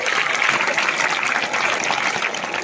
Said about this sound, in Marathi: एकदा जोरदार टाळ्या झाल्या पाहिजे सगळ्यांसाठी